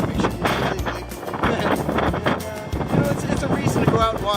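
Strong wind buffeting a microphone outdoors on a geology field trip, a continuous heavy low rumble with gusty swells, and a voice talking faintly underneath.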